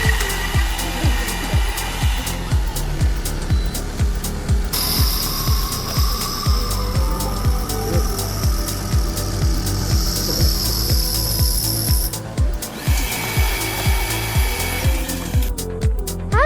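An automatic CNC lathe shapes plastic or nylon tubes into smooth cylindrical parts, with a fast steady run of sharp mechanical clicks under a loud whirring hum and a high-pitched whine through the middle section.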